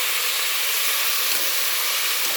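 Amaranth leaves and moong dal cooking in a pan give off a steady, loud hiss of steam and sizzle that stays even from start to finish, with no talking.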